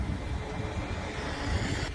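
Steady, dense roar of road traffic at a busy roundabout in Poole, UK, with engines and tyres blending into continuous broadband noise and a slight swell near the end.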